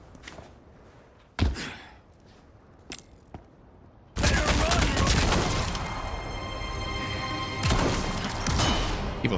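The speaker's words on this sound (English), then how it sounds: "We're going to get 2 headshots with the Killer 7, and then he will disappear." Resident Evil 4 Remake gameplay with a Killer 7 magnum: a sharp, booming shot rings out, followed by a fainter thud, then a loud, sustained burst of crashing, clattering game effects.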